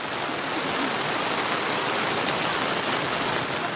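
Steady rain falls at a Thanksgiving campsite, a dense, continuous hiss of drops hitting surfaces close by, with no voices over it.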